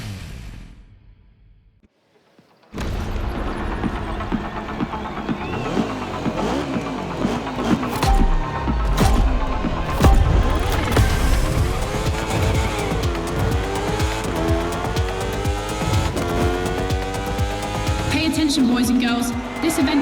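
A racing vehicle in The Crew Motorfest roars to life after a quiet moment, its engine revving hard with rising and falling pitch, tire squeals and skids, loud and close, with a voice talking over it.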